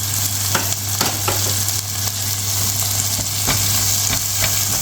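Ginger garlic paste sautés in a hot pan, with a steady close sizzle broken by sharp spoon scrapes and stirring clicks over a constant low stove hum.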